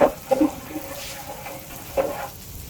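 Small native fish frying in a pan at a rustic eatery beside Belai Bil wetland, soft sizzling with a few brief sputtering pops and stirring scrapes, close and faint.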